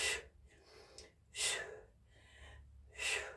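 Sharp forceful exhales during an elbow strike exercise from a Krav Maga style workout, three distinct breaths spaced about a second apart, close and fairly quiet.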